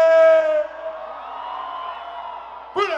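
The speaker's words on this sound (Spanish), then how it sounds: "Que griten los que son felices." A crowd at a live banda concert in Mezcala, Guerrero shouts and cheers with sustained whoops and yells while the music is paused, close and loud, with a fresh burst of cheering at the end.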